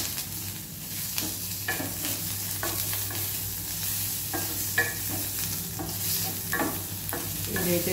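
Mysore bonda batter ingredients frying and being stirred in a pan, a steady crackling sizzle with repeated scraping strokes of the spoon at close range, no voices.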